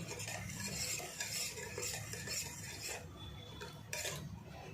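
A spoon stirring jamun sherbet with mint leaves in a vessel, a continuous scraping and swishing that stays fairly quiet and even throughout, with no talking.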